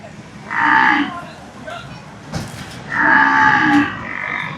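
A pregnant buffalo at a buffalo market lets out two loud, drawn-out moos close by, separated by a short pause with some background noise.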